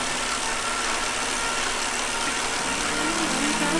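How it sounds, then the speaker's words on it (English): A car engine idles while warming up, giving a steady, close, unbroken rumble with a faint hiss and no voices. "Warming up the engine."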